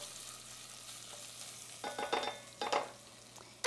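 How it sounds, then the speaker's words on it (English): Red chili flakes and whole coriander seeds sautéing in oil for a Jamaican stew, a soft steady sizzle with a few loud close scraping stirs of a spoon in the pan, no voices. "Saute it for a little while."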